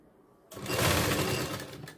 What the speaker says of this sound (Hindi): देन यहाँ से जोड़ना शुरू करेंगे। डबल सिलाई देंगे शुरुआत में।